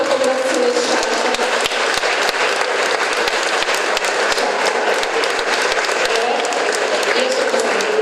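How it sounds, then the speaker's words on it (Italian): Sustained applause from the audience at the Fondazione Sciascia award ceremony, a dense crowd of steady clapping with a few sharp individual claps standing out, loud and continuous. "è qui per ricevere l'applauso del pubblico della Fondazione Sciascia"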